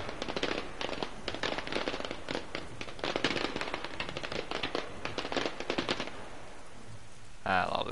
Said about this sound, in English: What are these fireworks, do I wonder? I want to see some fireworks.